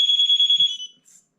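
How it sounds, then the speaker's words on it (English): An NIU KQi Air electric scooter alarm sounds as a loud, close, high-pitched pulsing electronic tone that warbles rapidly for under a second, then cuts off, followed by a faint short beep. "Okay, the alarm has activated."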